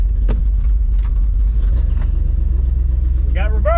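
An old Dodge Power Wagon truck engine runs steadily with a deep, continuous low rumble, close and fairly loud, while a few brief voice sounds break through near the end.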